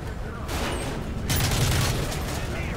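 Gunfire from Call of Duty Modern Warfare 3, including an M4A1, sounds as a dense, continuous rumble of shots and booms under a steady background din across the whole stretch.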